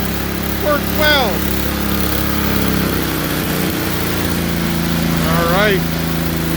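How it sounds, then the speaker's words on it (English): A Craftsman snow blower's small engine runs steadily at a fixed idle-like pitch, loud and continuous throughout, with a voice speaking briefly over it twice. "Great little snowblower. Works well."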